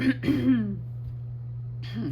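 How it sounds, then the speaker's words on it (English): A person clears their throat twice, short gruff rasps close to the microphone, separated by a quiet pause with a low background hum. "I keep clearing my throat."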